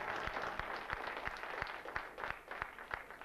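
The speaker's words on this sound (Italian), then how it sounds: "E noi se potete mandiamo un applauso umano a questa Sardegna nostra." A small gathering at a Sardinian folk-singing festival of guitar songs claps, a fairly faint patter with a few sharper individual claps standing out, steady and without speech.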